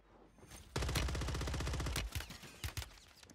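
Warzone 3 on Rebirth Island with a RAM 9 submachine gun loadout: a close, rapid sustained burst of automatic fire lasting over a second, followed by several scattered single shots, with no voices.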